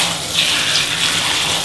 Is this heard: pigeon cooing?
no